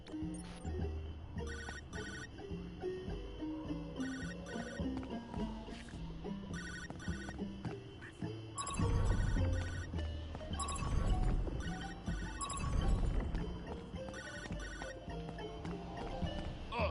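A phone rings in the video game High on Life 2, with repeated electronic ringtone tones over a dense backdrop of game music and effects that swells louder midway through.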